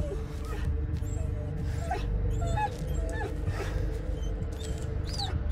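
A dog whimpers and yips in the Blair Witch video game, short high cries recurring over a steady low rumbling ambient bed at moderate level.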